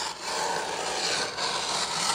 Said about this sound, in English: this is the easiest way that I have found to cut chipboard and have it be perfectly straight